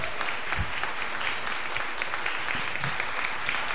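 A congregation at a church service applauds steadily, dense clapping filling the room at a strong, even level with no pauses.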